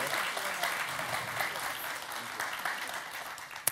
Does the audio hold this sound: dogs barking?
no